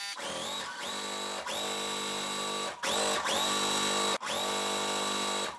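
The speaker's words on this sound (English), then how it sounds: "I'm just going to sew the bottom on." A sewing machine stitches a quilt block seam, a steady close whirring run broken by several short stops and restarts across a few seconds, with no talking.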